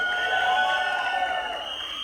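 An audience at the Mirzapur The Movie trailer launch cheers and claps in a dense, continuous wash of crowd noise, with whoops and shouts rising above it.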